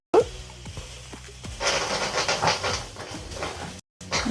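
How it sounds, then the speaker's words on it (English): Steam vents from a covered pressure release valve, a steady broad hiss that starts after a few clicks and continues loud and close, briefly cutting out near the end. "This is going to catch all the steam so it doesn't spray everywhere."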